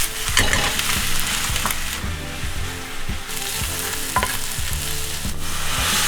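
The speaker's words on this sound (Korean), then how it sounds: "팬에 불 올리고 버터 녹이고 손질해 둔 양파 넣어 지글지글" Onions sizzle steadily in hot butter in a pan, a continuous frying crackle with occasional stirring scrapes and clinks.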